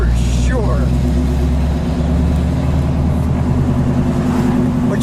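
Black 1979 AMC Spirit AMX with a 360 V8 rumbling loudly and continuously up close, a deep lumpy idle-to-cruise drone with a brief higher engine swell early on.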